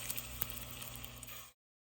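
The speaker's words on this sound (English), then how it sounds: "I am going to start putting my meatballs down in." Meatballs frying in hot oil, a soft, steady sizzle with faint crackles lasting about a second and a half before it cuts off.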